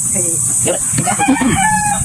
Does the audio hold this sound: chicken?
yes